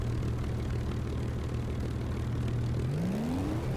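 A War Thunder aircraft engine sits at a steady droning hum on the runway, then its pitch climbs smoothly as the throttle is pushed to full for takeoff, loud and continuous with no voices.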